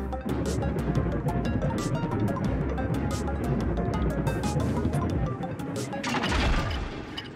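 Loud, dense crashing and smashing as trains collide in the pixel-art video game Eastward, a sustained chaotic clatter of impacts with a brief bright burst near the end.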